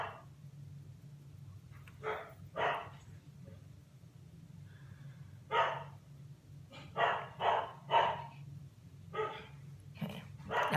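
Several dogs bark in repeated short bursts across the whole stretch, fairly close and loud, over a steady low indoor hum.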